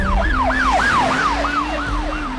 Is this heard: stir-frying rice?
no